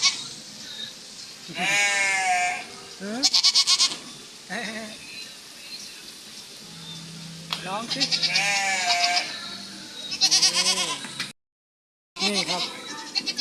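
Sheep bleating loudly nearby in several wavering goat-like cries, in an indoor mall animal display, mixed with someone talking in bursts between and over the calls.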